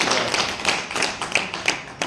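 An audience at a mushaira poetry gathering claps, dense overlapping hand claps with a few sharper individual claps standing out, steady and fairly close throughout.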